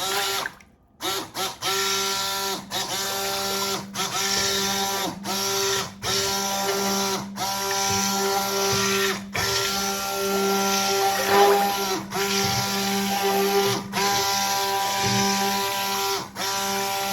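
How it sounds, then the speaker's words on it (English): An immersion blender whirs steadily as it mixes a batter of olive oil soap, a continuous close motorized drone with brief pauses and shifts in pitch throughout. "we are going to get our immersion blender"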